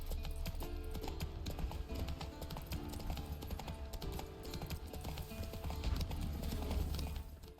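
Roach the horse gallops in a video game, a steady rapid clip-clop of hooves running throughout with no pauses, close and fairly even in volume.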